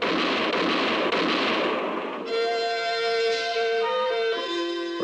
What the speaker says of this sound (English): the moonlit clearing thundered to the sound of gunfire